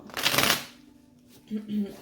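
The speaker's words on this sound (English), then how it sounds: "1 last shuffle for Virgo." Tarot cards get one quick riffle shuffle, a dense half-second burst of flicking card noise up close, followed by a short stretch of quiet and a brief voice.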